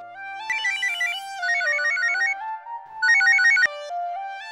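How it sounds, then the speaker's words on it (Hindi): A mobile phone ringtone plays a bright, repeating electronic melody in several loud bursts with short gaps between them, close by and alone. "एक मिनट, मेरा फोन है।"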